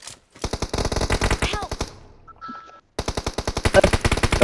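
Rapid bursts of automatic gunfire in a PUBG match, loud and close, breaking off for a moment before another sustained volley resumes.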